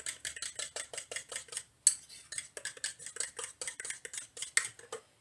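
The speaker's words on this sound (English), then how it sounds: "I'm going to give this a good mix" Rapid rhythmic clinking of a utensil whisking ingredients, likely egg, inside a cup, steady strokes close up with a brief pause midway, no talking.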